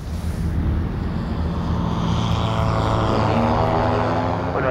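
A light propeller microlight aircraft idles and drones steadily close by before takeoff, its engine buzz constant and loud, mixed with wind rush, and the pitch begins to climb near the end.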